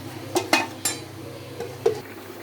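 A metal lid set onto a pot of tilapia fish curry with cauliflower and tomato, several light clinks and taps of metal on metal in a quiet home kitchen with a faint background hum.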